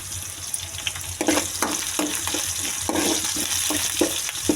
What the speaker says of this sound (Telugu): ఇది మంచిగా ఫ్రై కావాలి.